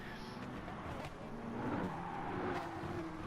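Race car in Gran Turismo Sport at Interlagos sliding through a corner, a steady engine drone with tyre scrub rising in the middle of the run, moderately quiet and continuous.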